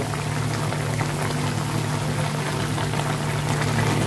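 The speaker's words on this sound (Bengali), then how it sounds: "অল্প একটু জল দিয়ে দেবো" A little water goes into a chicken and tomato curry in a hot pan, giving a steady, dense hiss and bubbling, fairly loud and continuous, with no talk.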